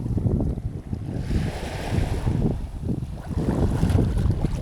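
Wind gusts over a Mumbai seashore fishing spot, with waves washing in beneath; a steady, loud rushing roar with rumbling low surges that swell and ease across the few seconds, no voices.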